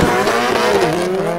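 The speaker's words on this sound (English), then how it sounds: "the backfiring is just me with my foot to the floor and it's banging off the rev limiter" Subaru Gymkhana 2 rally car with the throttle floored, bouncing off the rev limiter and backfiring: a loud, raspy engine tone with rapid stuttering pops over about a second and a half.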